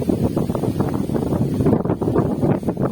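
Strong wind buffets the microphone outdoors by a road in a steady, heavy rumble throughout, with no speech.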